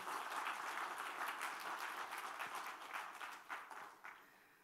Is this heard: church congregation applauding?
yes